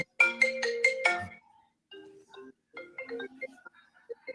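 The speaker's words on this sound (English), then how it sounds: "Phone call." A phone ringtone for an incoming call sounds loud and close as a quick repeated electronic melody for about a second, then falls quiet before softer tonal fragments continue.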